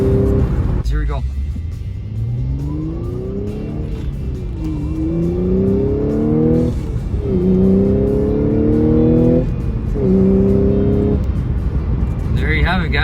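An Audi S4 B8.5 with a custom intake, heard from inside the cabin while driving at about 100 km/h. After a downshift from sixth to fifth the engine drones loudly and steadily, and its pitch climbs and steps through several revving surges.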